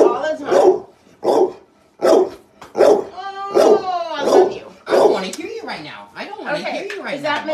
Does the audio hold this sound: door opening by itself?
no